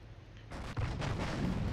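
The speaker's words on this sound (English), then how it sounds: "There we go. Look at that. Nuclear bomb." A deep boom and rumbling blast from a nuclear bomb in the video game Company of Heroes: a sudden loud onset, then a sustained roar with crackling bursts that does not fade.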